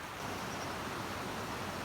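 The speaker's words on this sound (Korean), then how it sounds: "눈이 녹아지고 저렇게 폭포가 됐다니 참 신기하다" A waterfall fed by melting snow on a mountain trek roars as a steady, dense wash of rushing water, constant and moderately loud with no other sounds.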